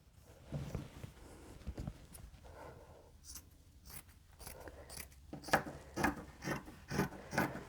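Scissors cut straight up the middle of a cotton T-shirt and through its seam, giving a run of crisp, rhythmic snips that get louder and closer together in the second half, with no talking.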